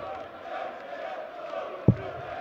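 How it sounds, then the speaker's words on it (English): Crowd at a German darts tournament cheering and roaring steadily throughout, a dense wash of voices with one sharp thump near the end. "The German crowd are making themselves heard, cheering on their man."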